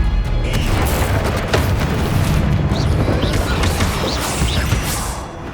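Bombarda explosion spell in the video game Hogwarts Legacy: loud, dense booming and crashing blasts over a continuous roar of battle, with a voice heard briefly.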